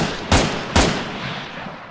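Two sharp, close gunshots crack about half a second apart in Arma 3 Breaking Point, each with a short fading tail, over a low background murmur.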